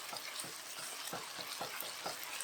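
Eggs fry and get stirred through a pan for pad thai with chicken, a steady broadband sizzle broken by regular scraping strokes of the spatula, close and moderately loud.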